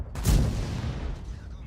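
A sniper shot rings out in a video game, a single loud boom that decays into a rumbling, reverberant tail lasting over a second.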